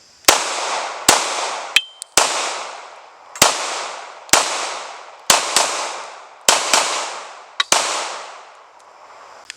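Glock 19 Gen 6 pistol fired outdoors in a slow string of about ten sharp, loud shots with ringing decays and uneven gaps between them.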